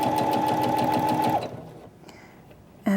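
A sewing machine stitches a hairline seam on sheer fabric, humming steadily at close range for about a second and a half, then stopping. A quiet pause follows before the motor starts again.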